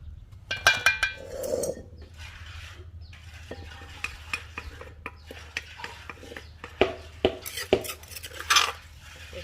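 A utensil stirs food in a pot while Thai fish-roe curry custard is prepared, scraping and clinking steadily at close range with sharper metallic knocks toward the end, no talking.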